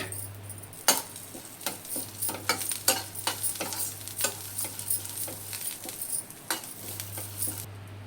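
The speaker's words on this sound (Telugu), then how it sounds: "ఇప్పుడు దీన్ని కొద్దిగానే ఫ్రై చేసుకోవాలండి." A generous handful of curry leaves fries lightly in oil for karvepaku pongal, a close crackling sizzle punctuated by repeated spatula taps and stirring scrapes against the pan, with a low steady hum underneath.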